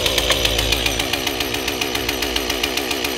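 A STIHL chainsaw with M-Tronic electronic engine management runs steadily right after restarting, a loud, close two-stroke drone with a fast regular firing pulse and no voices.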